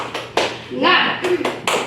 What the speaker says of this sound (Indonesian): Saya Ibu bilang tepuk semangat.